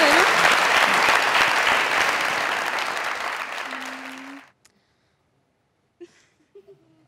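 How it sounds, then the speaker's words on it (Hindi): Studio audience applause on a comedy talk show, dense and loud at first, then tapering and cutting off abruptly midway, followed by near silence with a few faint brief sounds. "तालियां इनके लिए।"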